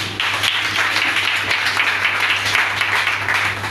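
A church congregation applauding together, a dense steady wash of many hands clapping close around, sustained without pause, with a low hum underneath.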